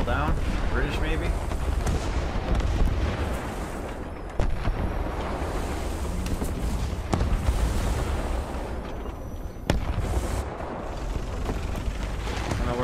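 A tank destroyer in War Thunder takes hits: two sudden heavy impacts cut through a dense, rumbling battle soundscape of engine and distant fire, with a voice talking over it.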